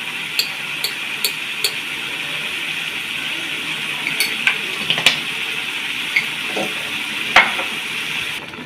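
Rohu fish with green chili, cumin and coriander powder sizzles in a pan under a constant frying hiss, broken by scattered spoon scrapes and light clinks against the metal.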